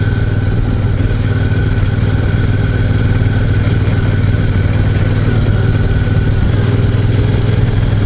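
A Royal Enfield Super Meteor 650 motorcycle engine runs steadily nearby, a loud, even rumbling drone with no clear revving changes throughout.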